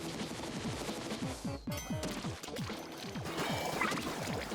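A barrage of Tenta Missiles launches in Splatoon 2, with rapid repeated whooshing bursts, then a sharp crash and more scattered explosive impacts layered over busy game sound.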